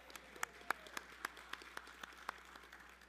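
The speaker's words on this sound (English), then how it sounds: "Let's give a round of applause for Elika" At a church youth gathering an audience claps for a twelve-year-old girl named Elika. The claps are distinct and fairly quick, with a few louder hits standing out over softer clapping, all heard from a moderate distance at low volume.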